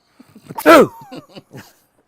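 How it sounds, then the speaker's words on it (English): A person forces out a single loud, theatrical sneeze, a sharp burst with a sliding vocal tail, followed by a few short breathy sounds. "What you do is you fake a sneeze"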